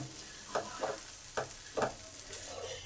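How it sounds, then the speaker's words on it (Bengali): Pressure-cooked dal with spices being stirred in a pan: four or five distinct scraping strokes at an uneven pace over a faint background sizzle, close and fairly quiet. "ডালটাকেও এই মশলাগুলোর সাথে ভালোভাবে একটু নেড়ে নিই"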